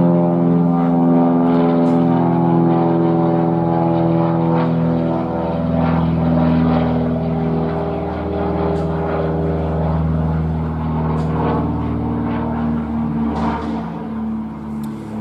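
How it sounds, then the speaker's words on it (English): A propeller airplane passes overhead outdoors, a steady loud droning hum with strong low harmonics that holds for the whole stretch, slowly shifting in pitch as it passes. "just wait for this plane to fly over."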